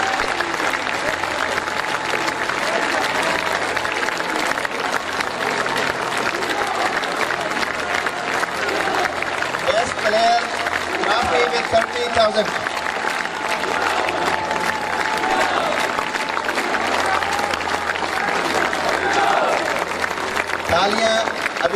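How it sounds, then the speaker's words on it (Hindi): Sustained crowd applause greets the best player trophy, awarded with 30,000, at a 2021 college annual function. The clapping runs unbroken throughout, while someone speaks over it on a loudspeaker. "तालियां अभी रुकनी नहीं चाहिए जब तक ये ट्रॉफी न ले ले।"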